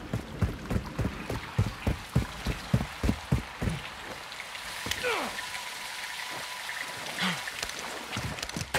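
Heavy rain falls in Call of Duty Modern Warfare 2 (2022), a steady wash of water noise under rhythmic thumping footsteps, with muffled game dialogue and whooshing effects partway through.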